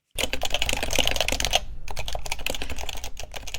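Several people type rapidly on computer keyboards nearby, a dense, uneven clatter of key presses with a brief pause midway before the tapping resumes.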